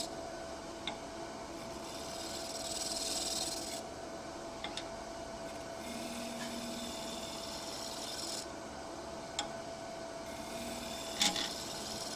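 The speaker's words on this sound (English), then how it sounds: "when you use scrapers is you want to get your RPMs up, because they do work better with higher RPM" A scraper cutting wood on a lathe spinning at high RPM during a woodturners' club meeting, giving a steady scraping rasp over a constant motor hum, with swells of louder cutting and a few sharp ticks.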